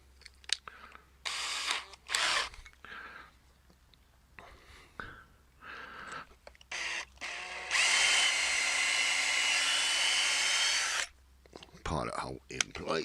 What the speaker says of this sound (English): And so we'll just replace that again to put a pilot hole through.